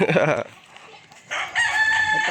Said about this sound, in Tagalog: daming manok nila kuya